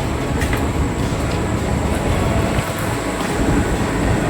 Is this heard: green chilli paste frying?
no